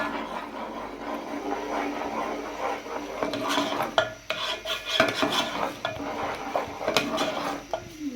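A spoon stirs custard continuously in a pot, scraping and clinking against the metal with a steady, close rustle throughout.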